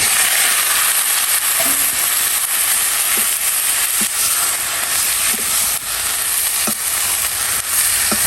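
Leafy greens frying in a pan with onion and chilli, a loud continuous sizzle and hiss with occasional soft stirring taps throughout.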